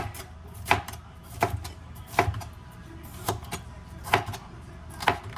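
A knife slices bell peppers for sheet pan fajitas on a cutting board, giving about eight crisp, evenly spaced knocks against a quiet background, close and with no talk.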